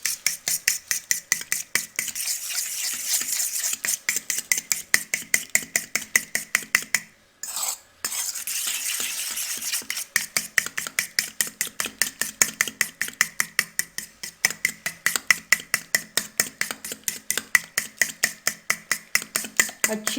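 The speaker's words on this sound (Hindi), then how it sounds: "अब इन तमाम चीज़ों को अच्छे से हम मिक्स कर लेंगे फोक की मदद से" A fork stirs yogurt with spices and lemon juice for chicken tikka handi, clicking and scraping against the bowl in a steady, rapid rhythm, close and clear, pausing briefly once midway.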